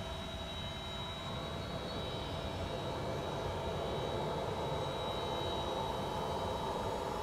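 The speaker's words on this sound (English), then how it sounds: "APU, we'll start the APU now." Auxiliary power unit of a Challenger 650 business jet spooling up in X-Plane 12, a steady, loud turbine roar and whine with a high tone holding level throughout, no talking.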